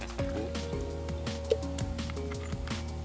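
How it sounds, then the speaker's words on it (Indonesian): E4 biofermenter liquid mixed with sugarcane molasses is poured over a heap of goat manure compost, giving soft splashing, dripping and squishing sounds at close range. "kita siram lagi ya dengan biofermentator"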